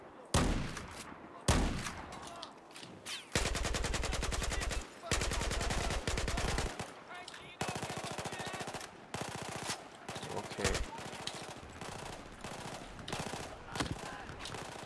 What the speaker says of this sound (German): Okay, ich schieße.